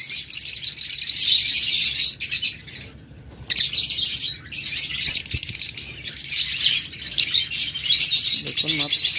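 Crowd of lovebirds in a bird shop, dense high chirping and twittering from many birds close by, nearly continuous with a brief lull, no talking.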